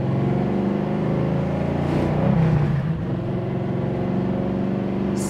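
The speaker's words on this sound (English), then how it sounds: "Sounding amazing, man. I tell you what, Mr. Kazi can put together a motor" A 1968 Ford Mustang Fastback restomod engine idles with a deep, steady burble, then swells into a brief rev around the middle before settling back to a loud, close rumble.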